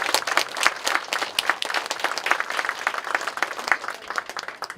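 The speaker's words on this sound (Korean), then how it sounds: "여러분 뜨거운 감사의 박수 좀 부탁드리겠습니다." An audience at a memorial ceremony gives applause of thanks, a dense patter of many hands clapping at moderate volume that holds steady and then eases slightly toward the end.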